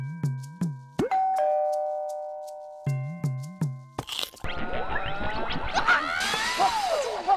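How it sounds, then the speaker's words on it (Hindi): A house doorbell rings with a bright ding-dong chime, repeated in two clear bursts, followed by a comic crash and clatter of a frantic scramble in a sitcom scene, with no talk. "घंटी बजा दी।"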